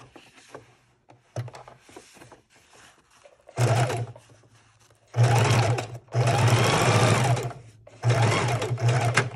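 Sewing machine stitching through junk journal paper pages in bursts: a few short runs, then longer steady whirring runs with pauses between, close and loud, with no talking over the stitching.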